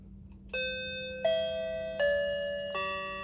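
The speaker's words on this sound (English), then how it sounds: "this is what it sounds like. This is the normal chime stuff." An old doorbell rings its normal chime, four clear bell tones struck one after another, each ringing on and overlapping the next, over a low steady hum.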